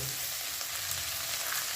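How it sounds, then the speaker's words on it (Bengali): Chopped ginger and garlic fry on high flame in a pan, giving an unbroken, loud sizzling hiss with no pauses. "হাই ফ্লেমে আদা রসুন কুচিটা এক থেকে দেড় মিনিট ভেজে নেব"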